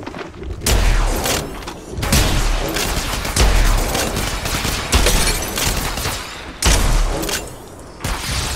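Bursts of automatic gunfire from the mobile shooter game Apex Legends Mobile, loud rapid volleys separated by brief gaps, with a few heavy booming impacts.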